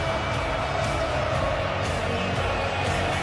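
Argentina supporters fill a World Cup stadium with a dense, steady roar of crowd noise, continuous and distant-sounding with no single voice standing out.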